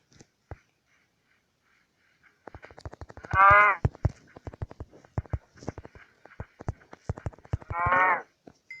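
A cow in the video game Minecraft lets out two loud, close moos, with soft clicking and stepping sounds between them and no voices.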